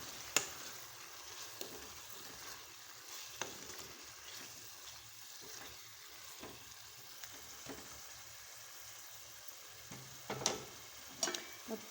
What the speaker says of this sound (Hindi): अब मैं इसमें ये कीमा डालूँगी।